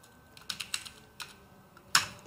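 Keys tapped on a computer keyboard while working in an Excel spreadsheet, a handful of sharp irregular clicks spaced apart, ending in one louder stroke like a firm Enter press, close and alone.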